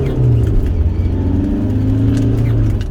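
A Rover 45 four-cylinder diesel engine revs steadily and close by, a continuous low droning roar that holds for about three seconds with slight rises in pitch.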